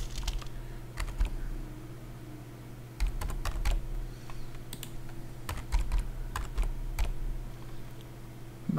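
Keys on a computer keyboard tapped out in short bursts, a six-digit number entered in quick clicks with brief pauses between groups, close and clear over a low steady hum.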